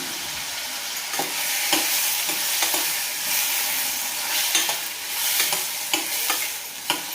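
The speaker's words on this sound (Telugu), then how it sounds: "ఒక కుక్కర్లో వన్ టేబుల్ స్పూన్ ఆయిల్ వేసి కట్ చేసుకున్న ఈ టమాటోస్ని వేయించుకోవాలి" Cut tomatoes fry in a tablespoon of oil inside a pressure cooker, a continuous bright sizzle broken by regular scraping stirs of a spoon, close and fairly loud, with no talking.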